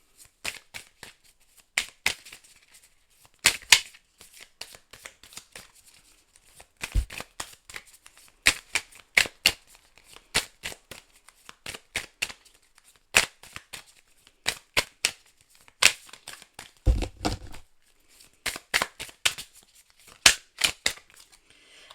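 Oracle cards being shuffled by hand during a tarot-style reading, crisp riffling and slapping bursts repeating in irregular clusters throughout, close and clear with no talking.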